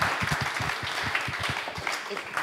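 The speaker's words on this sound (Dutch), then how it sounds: "Geef er een warm applaus, dames en heren." An audience gives warm applause at a public discussion on police diversity, a dense patter of clapping that stays fairly close and steady for a few seconds.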